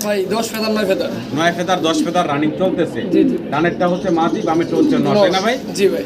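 Pigeons coo at a pigeon sale alongside close, loud talk that dominates; the soft, low cooing sits underneath the voices throughout.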